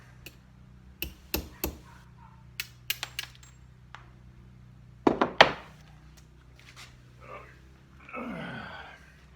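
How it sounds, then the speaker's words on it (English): Tapping out a wiring connector part on a Norton Commando 750 motorcycle, a series of sharp metallic taps and clicks at irregular intervals, close and fairly loud, ending with a short rustle. "Just tapping this one out."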